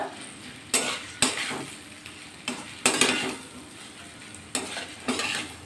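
Okra and potato are mixed with spices in a pan, giving several sharp scraping strokes of a spoon against metal at irregular intervals over a low sizzle, close and fairly loud, with nobody speaking.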